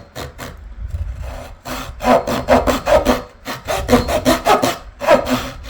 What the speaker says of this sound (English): So what I'm going to do is cut through the fingerboard at an angle.